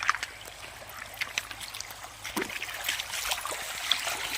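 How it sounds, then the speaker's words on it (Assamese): Floodwater of the Brahmaputra runs past in a faint, continuous trickle and gurgle, with small splashes scattered throughout. "এই চাওক কেনেকৈ সোঁত বৈ আছে"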